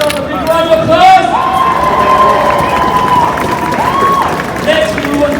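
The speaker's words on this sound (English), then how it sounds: "Everybody give yourself a big round of applause." A crowd at an outdoor pro-Palestinian street protest in Leeds applauds and cheers, a loud mass of clapping and shouts with voices calling out over the top.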